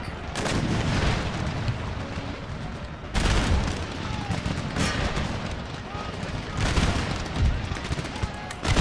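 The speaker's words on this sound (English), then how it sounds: "There's some canister shot." Cannons firing canister shot in the Empire: Total War video game, several heavy booming blasts with crackling volleys rolling between them amid continuous battle noise.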